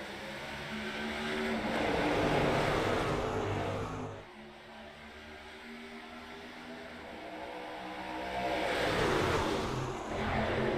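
Race cars in a sim racing game at Kansas, a loud engine roar that swells, dips sharply midway, then builds again as the pack drives through, with no talk.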